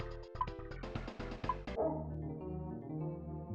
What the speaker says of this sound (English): And there's a dog.